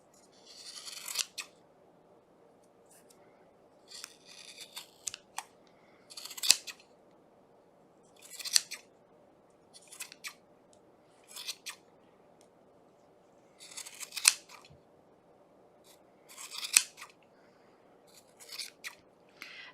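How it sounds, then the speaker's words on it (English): Scissors trimming a yarn pom pom: close, crisp snipping in regular bursts, roughly one cluster every two seconds, steady and alone without talk. "And then you're going to start trimming."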